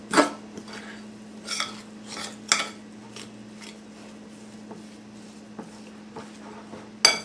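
A utensil stirs thick cheesecake batter with baking mix in a bowl, giving irregular scraping knocks and clinks with a few louder hits, close and alone over a faint steady hum.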